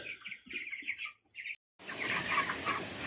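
Young meat chickens about three weeks old cluck and peep in a close, busy chorus of short calls, cutting out briefly before a denser, noisier stretch of the flock continues.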